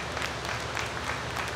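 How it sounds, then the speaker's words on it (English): A short burst of applause at a dairy cattle show, many hands clapping together at once, dense and fairly close. "I think we should give them a good round of applause."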